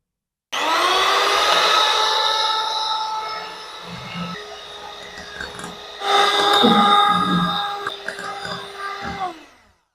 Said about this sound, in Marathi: आता ही क्रीम आपल्याला व्हीप करून घ्यायची किंवा चांगली फेटून घ्यायची